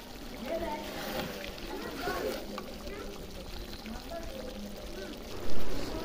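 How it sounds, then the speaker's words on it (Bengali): Broth poured into a pot of spicy village-style fish curry made with pond-raised koi and taki fish: a soft, steady liquid splash and trickle, close by, with a voice talking over it and a louder clunk near the end. "তো এখন ঝোল দিয়ে দিচ্ছি,"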